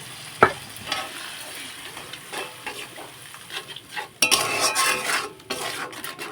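Spice masala is stir-fried in a pan with a little water, with close, irregular metal scraping and clinks of a spatula against the pan over a low sizzle, growing busier toward the end.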